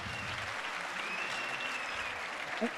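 Audience applause for doctors on the main stage of a youth empowerment event in Orange Farm, steady crowd clapping heard from a distance, fairly faint, with a brief knock near the end.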